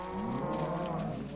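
Cows in the Minecraft video game give a drawn-out, low mooing call that is loud and close, sounding alone with no talk over it.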